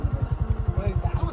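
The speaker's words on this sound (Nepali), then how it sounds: "म थिएटरमा यो बाइक चलाउन लागेको छु" A motorcycle ridden at night near a theatre gives a close, low, rhythmic thumping, with its engine pulses coming evenly several times a second throughout the short stretch.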